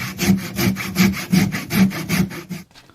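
Hand saw cutting through a wooden log to slice off a coaster, about eight even rasping back-and-forth strokes close up, ending abruptly as the piece comes free.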